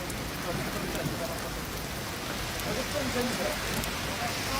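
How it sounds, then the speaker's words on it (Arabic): Heavy rain pours steadily in Marrakech, Morocco, a dense, even hiss of drops striking surfaces that fills the whole stretch without pause, close and loud. "والله يا أمطار شيء رهيب."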